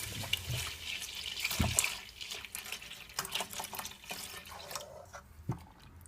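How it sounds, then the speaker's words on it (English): Milk poured into a cooked butter and flour base for a mac and cheese sauce, quiet close-up liquid trickling and splashing with faint stirring and clinks. "I'm just gonna add my milk"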